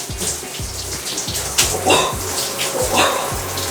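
Cold shower water runs in a steady, loud, close spray with a continuous splashing hiss, and a rhythmic low thumping sits beneath it throughout.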